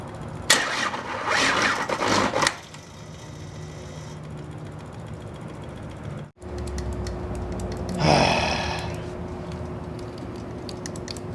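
A 1986 Ford diesel engine, left in the desert and just primed with fuel, cranks roughly in a loud uneven burst, then falls quiet before a second fainter grinding crank near the end.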